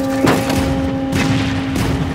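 Booming cannon shots in Monster Hunter: World, three heavy blasts spaced about a second apart over a steady electronic hum.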